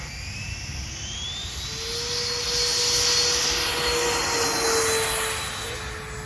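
An RC model airplane with a twin 40 engine screams past on a speed run, a high, sustained motor whine that rises and falls in pitch as it passes, heard from a distance over faint outdoor wind noise.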